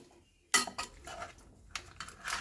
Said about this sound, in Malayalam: ഇനി ഇത് നന്നായി ഇളക്കി ചേർത്തെടുക്കാം.